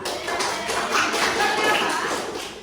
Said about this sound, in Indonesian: Tepuk tangan buat Mas Java dan Mbak Cinta.